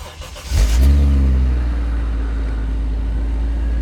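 A car engine cranks and catches, then settles into a steady, loud idle rumble close by.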